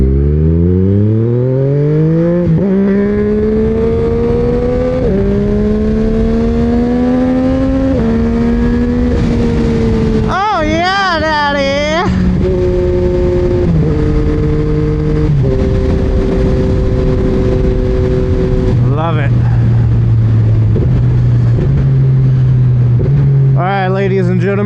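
Yamaha MT-09 motorcycle engine revving hard and climbing through gears for a wheelie, loud and close, with rising pitch sweeps, shifts and a brief rev flutter midway, continuous throughout.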